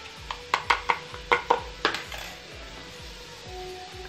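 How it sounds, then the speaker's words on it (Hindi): Tomatoes being chopped on a board while cooking mustard greens saag, with about eight sharp knife strikes in a quick irregular burst, then a quieter stretch of low background hum. "टमाटर भी मैं इसमें चॉप कर रही हूँ"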